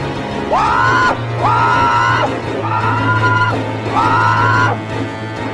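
A loud scream effect for a horror story repeats four times in a regular rhythm, each a long, piercing wail that rises quickly and holds before dropping, with short gaps between and a low hum underneath.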